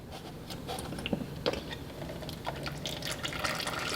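Engine oil drains from a Porsche Cayman S 987 during an oil change, a faint steady trickle with soft drips and splashes into a pan, close by with no voices.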